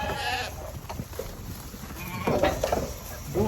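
Goats bleat among sheep on a farm while a fence is being mended, short calls rising over rustling and a background murmur.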